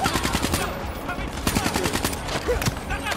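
Rapid automatic gunfire in Black Ops 3 from an ICR-1 rifle, with dense repeated bursts of sharp shots running throughout and voices mixed in.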